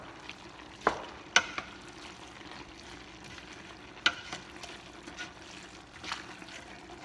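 Beef stirred in a deep pot while cooking papaitan, a soft continuous sizzle and liquid swish broken by a few sharp scraping clanks of the spoon against the pot, with no talk.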